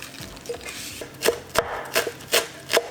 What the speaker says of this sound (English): Some basil I'm gonna roughly chop up.